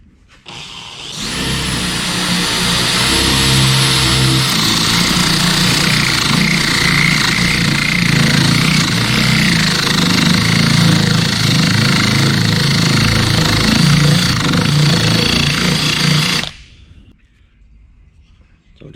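A steady, loud whirring drill with an adjustable bit runs continuously for about fifteen seconds, boring a hole for an aluminium fishing boat floor, with a high whine on top, then cuts off abruptly.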